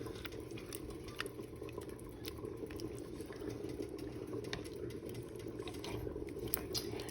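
Spaghetti sauce being stirred in a pot, giving a soft, steady bubbling and scraping patter that runs throughout at low volume, with no talking.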